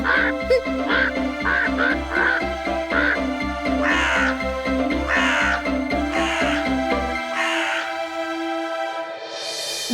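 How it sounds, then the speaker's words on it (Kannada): Cartoon crows caw in a flower garden in a fairy-tale story, a rapid, steady run of harsh, loud calls for about seven seconds that then stops. "ಆ ಕಾಗೆಗಳೆಲ್ಲ ಇಲ್ಲಿಂದ ದೂರ ಹೊರಟು ಹೋಗ್ಬೇಕು"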